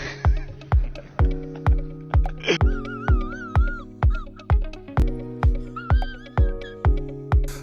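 A horse whinnies repeatedly over a steady musical backing track with rhythmic percussive hits, the neighs loud and close, rising and wavering in pitch several times through the passage.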